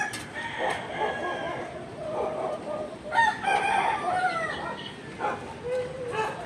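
A rooster crows loudly, with a second crow a few seconds later, over a busy backyard background with scattered clucks and a dog barking.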